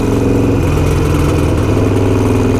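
A Ducati motorcycle with an aftermarket exhaust idles and rumbles steadily with a deep, throaty exhaust note, continuous and fairly close, no talking.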